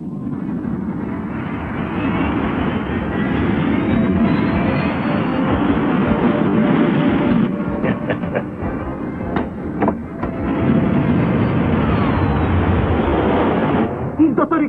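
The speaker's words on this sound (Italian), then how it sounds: "È decollato a bordo del jet." A jet aircraft takes off in an animated action series, a loud, sustained engine roar that holds steady for about fifteen seconds with a few sharp knocks partway through.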